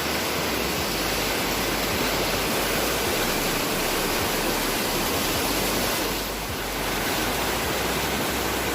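Two rivers, the Janavali and the Gad, meet at a confluence, their water rushing in a dense, continuous roar with no voices, steady throughout with a slight dip near the end.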